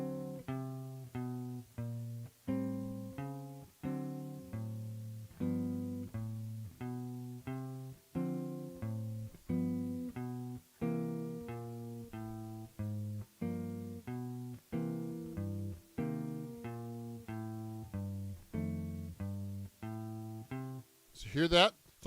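A bass walks a steady quarter-note line over the bridge of Rhythm Changes, each plucked note clear and evenly spaced. It plays alone at moderate volume for about twenty seconds, and a brief sharp noise cuts in at the end.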